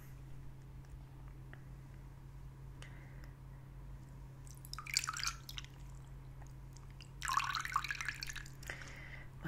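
Water drips and splashes into a warm bowl during an ASMR face-mask removal, coming as two short, close bursts midway and near the end over a steady low hum.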